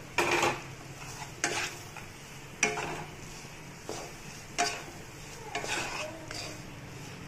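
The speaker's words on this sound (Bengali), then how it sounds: "একটু নাড়াচাড়া করে বানিয়ে রাখা ভাতটা দিয়ে দেবো।" A spoon scrapes and clanks around a pan as cooked rice is stirred into a turmeric spice mix for South Indian puliyogare, in several separate strokes over a faint sizzle.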